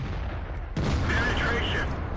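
A tank's main gun fires in a World of Tanks match, the Bat Chat tank battle: a sudden loud broadband boom that cuts in partway through and rumbles on. Speech is present, and there are tonal game interface sounds.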